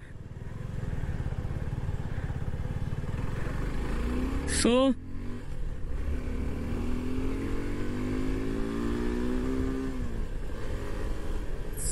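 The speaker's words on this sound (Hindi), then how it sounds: "इंजन काफी रेव फ्रेंडली इंजन है, आराम से रेड लाइन टच करता है" A Suzuki V-Storm 250 SX motorcycle engine drones steadily and climbs in pitch as it revs, running close and continuous under a rider's speech.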